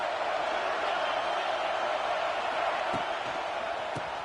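Stadium crowd at a college football game, a steady, full roar that holds at an even loudness throughout with a couple of faint thumps near the end.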